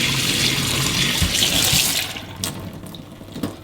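A tap runs steadily into a sink as a vacuum cleaner end cap with a velour strip is rinsed under it, with a loud rushing flow that thins out and splashes unevenly near the end.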